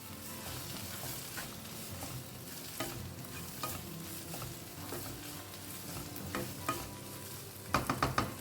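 Clams are stirred through a coconut and turmeric paste in a sizzling pan, a soft continuous fry with repeated scraping strokes, ending in a few sharper clatters of the spoon against the pan.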